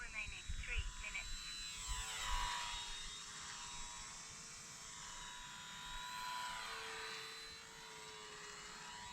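A small E-flite UMX F4U Corsair electric RC plane buzzes faintly overhead with a thin, wavering motor whine that rises and falls as it circles, while someone talks nearby outdoors.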